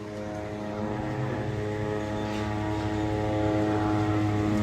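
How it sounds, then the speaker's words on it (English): An airplane flies overhead spraying cows on a dairy farm, its propeller engine making a steady, droning hum that stays loud and continuous throughout, with no voices. "You can hear that airplane out here."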